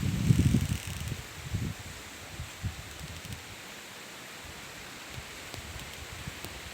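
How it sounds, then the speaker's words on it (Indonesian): Strong wind sweeps through a durian orchard of Musang King trees, a steady broadband roar of shaking leaves and branches with heavier gusts and rustling bursts near the start, then a sustained, slightly fainter whoosh throughout. "Anginnya ini bikin ngeri semeton."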